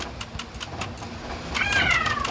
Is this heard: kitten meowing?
yes